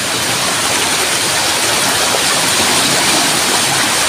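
Fast floodwater rushing and rising by a bridge, a loud, steady broadband roar that fills the whole clip without a break and with no voices over it.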